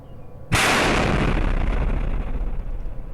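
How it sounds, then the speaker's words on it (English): A ball made of blocks in a video game shatters and bursts outward, a sudden loud blast followed by a dense, crackling rumble of scattering debris that sustains for a few seconds. "Whole thing explodes."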